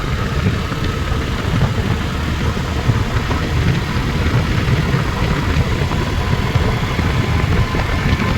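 A motorcycle engine running steadily on a ride from Thirthahalli toward Kundapura, a continuous low rumble with wind noise, loud and close, with no talking.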